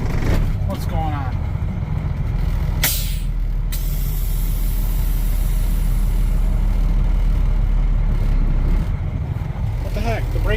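A stuck air brake on a truck releasing air, a loud sustained hiss over a rumbling idling engine, with a sharp burst of escaping air partway through and people talking nearby.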